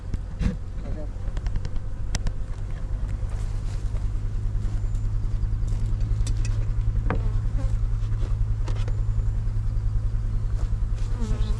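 Bees buzz around hives being graded and fed pollen substitute before almond season, a dense steady drone close by with individual insects passing, while someone speaks briefly.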